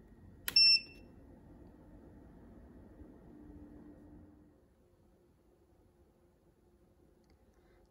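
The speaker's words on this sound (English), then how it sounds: "You'll notice it has quite a loud beeping sound" A JS DUO 2.0 heating and cooling tower fan powers on with a single sharp, loud electronic beep near the start, followed by a low mechanical hum that fades away to quiet.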